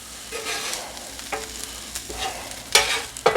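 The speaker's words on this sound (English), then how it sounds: "mix our onions and our peppers in it" Onions and peppers are mixed into chicken on a flat-top griddle, with a soft continuous sizzle under a few sharp metal spatula scrapes and taps, close up and without speech.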